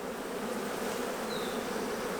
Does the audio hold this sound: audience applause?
no